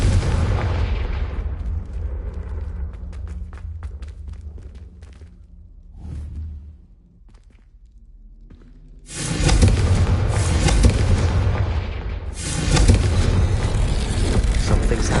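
In Hogwarts Legacy, the Confringo fire spell lands with a booming, roaring explosion, followed by a lull of fading rumble before further loud bursting blasts and whooshing fire.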